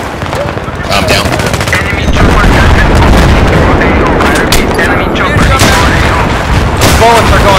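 Dense Battlefield 3 gunfire fills the scene, with sustained automatic bursts, overlapping single shots and dull booms of bullets striking cover, loud and continuous throughout, while players talk over the chaos.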